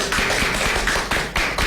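Several pairs of hands clap in a steady, fairly quick rhythm for a child named Hiba on a Radio Pakistan children's program, close and clear over a faint low hum, with no talking.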